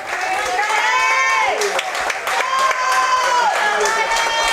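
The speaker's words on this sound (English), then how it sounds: "Crowd getting loud" A loud crowd at a college baseball game cheers and claps continuously while the announcer talks over the noise.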